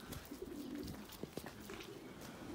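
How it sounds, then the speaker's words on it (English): Pigeons cooing softly in a shed, low repeated coos with a few light flutters and taps, faint and close, alone without talk. "you don't want to spook the birds even more than they're already chasing their own arseholes"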